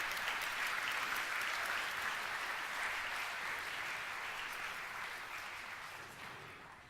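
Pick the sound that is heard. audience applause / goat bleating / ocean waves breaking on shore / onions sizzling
audience applause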